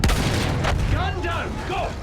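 Enemy gun firing in the video game Seven Pillars of Wisdom, loud booming shots under shouting voices and battle noise, with a sharp blast at the start and continuing rumble.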